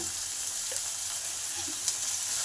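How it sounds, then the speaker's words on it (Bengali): Tomatoes with salt and turmeric frying in a pan, a soft, even sizzle that runs throughout, with a faint tap or two, no speech. "এবার টমেটোটাকে ভালো করে নরম করে ভেজে নেব"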